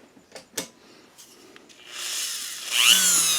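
A power drill whirs up with a small model car part chucked in it, for a NASCAR Next Gen Camaro kit. A few soft handling clicks come first, then the motor spins up to a loud whine close by.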